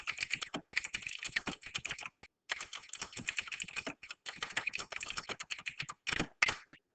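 Steady clicking of typing on a computer keyboard, close and fairly quiet, in quick irregular bursts with a couple of short pauses and a few louder key taps near the end, no talking.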